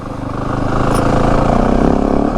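A 2025 Yamaha WR 450F dirt bike engine runs steadily while riding, a loud, continuous thumping drone that builds slightly and holds a throbbing rhythm close to the microphone, with no talk over it.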